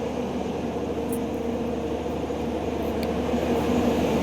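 A passenger train stands at Belagavi station on the Belagavi–Hyderabad route, giving off a steady, loud low hum with faint metallic ticks and no clear movement.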